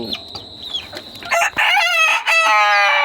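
Desi rooster crowing at close range, one loud drawn-out cock-a-doodle-doo after softer clucking and rustling at the start.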